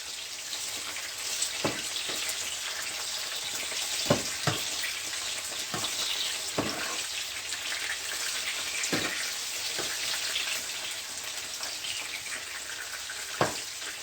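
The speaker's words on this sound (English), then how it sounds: "You can hear that sizzling sound." Steady, close hiss of eggplant and yam frying in hot oil, continuous crackle with occasional sharp pops and clinks spread throughout.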